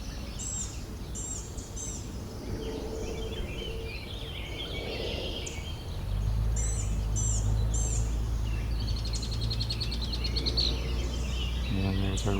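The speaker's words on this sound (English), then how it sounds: "And there's our red-winged blackbird." Red-winged blackbird song outdoors among other birds such as an orchard oriole: repeated faint, high trills and chirps over a low steady hum, with no speech.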